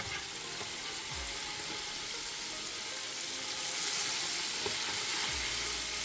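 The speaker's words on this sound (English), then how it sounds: "these have been frying for about 3 minutes" Steady crackling sizzle of halibut deep frying in hot oil, continuous and close, with no voices.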